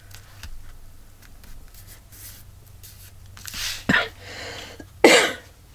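Two sharp coughs close by, a few seconds apart, after quiet rustling and scratching sounds.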